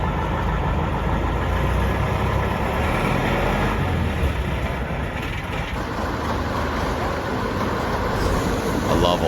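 An old Tatra truck at the Tatra museum in Kopřivnice idles with a steady, loud, rough rumble. A faint voice sits in the background.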